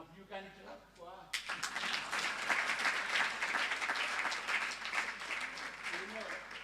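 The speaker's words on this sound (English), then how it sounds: "you can clap for her" Audience applause for a speaker at an energy efficiency and electric mobility conference, beginning abruptly after a voice and continuing as a full, fairly close round of clapping with talk faintly underneath.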